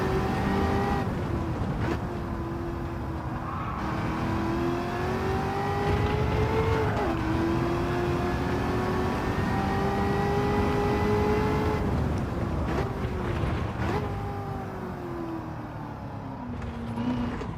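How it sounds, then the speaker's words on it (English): In Gran Turismo 7, a 1978 Firebird with a supercharged V8 engine swap drones steadily under load, its pitch climbing and dropping through gear changes and lifts of the throttle, loud and continuous with faint tire noise. "this has a really smooth power band with the supercharger"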